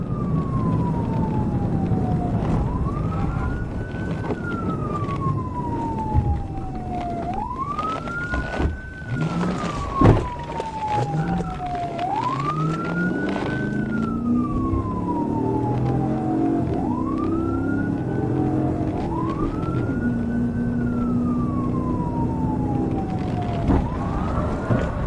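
A police car siren wails in repeated rising and falling sweeps during a highway pursuit, loud and continuous over a rumbling engine and road noise, with no talk.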